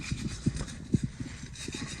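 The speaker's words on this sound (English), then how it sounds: "sanding the rust off" Rust being sanded off a wheel bearing part by hand, a quick series of scratchy rubbing strokes in an uneven rhythm, close and fairly quiet, with no talking.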